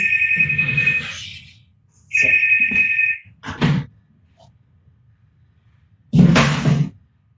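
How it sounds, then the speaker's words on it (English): A phone rings in a home room during an online academic presentation. Bursts of steady electronic tone repeat with gaps between them, mixed with a few short knocks and thuds. No one talks over it. "There was a phone call since I am presenting from my room."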